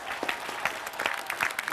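A studio audience at an Indonesian evening TV talk show bursts into dense, continuous applause, a crowded patter of many hands filling the room at moderate loudness.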